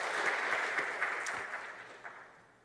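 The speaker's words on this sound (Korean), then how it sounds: "우리 감사와 격려의 박수 한번 드리겠어요." A church congregation claps in thanks after a violin and piano performance, a broad wash of applause that is fairly soft and gradually fades over a few seconds, with no one speaking.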